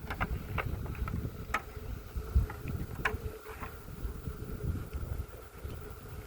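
Honey bees left over in a hive during a Varroa mite test buzz faintly outdoors, mixed with scattered clicks and ticks and a light rush of wind.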